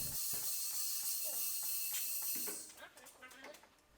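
A studding machine drives metal studs into an ice racing tire, giving a run of rapid mechanical clicks and ratcheting over a loud steady hiss, which drops away near the end and leaves softer clatter.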